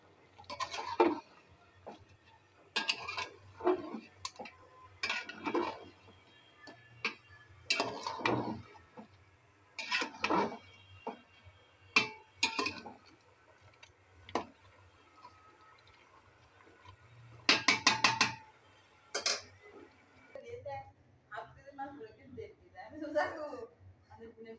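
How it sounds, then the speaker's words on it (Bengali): A pot of goat meat curry is stirred, and a spoon clanks and scrapes against the pot in irregular bursts over about twenty-five seconds while a person talks. "এখন একটু নেড়ে ছেড়ে দিচ্ছি।"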